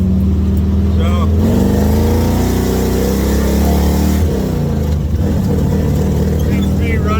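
An off-road buggy engine runs after a new transmission, transfer case and clutch were fitted, its loud rumble rising and falling as it revs and shifts, with a voice talking over it.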